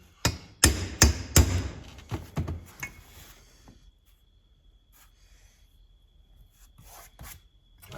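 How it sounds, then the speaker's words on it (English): A hammer strikes a chisel on the water pump of a 1941 Farmall M tractor, a cluster of sharp metallic hits in the first few seconds tapering off to faint scattered taps and near quiet. "Hit the chisel, not your hand."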